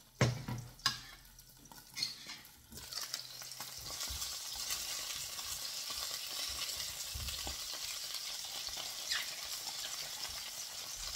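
Fried bratwurst sausages are stirred in a pan: a few spatula knocks and scrapes at first, then a loud, steady sizzle of hot oil that fills the rest, close by with no talk.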